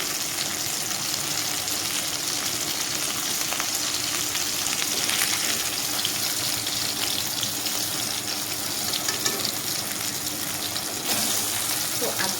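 Continuous crackling sizzle of bitter gourd frying in hot oil, steady and close throughout, with no talking.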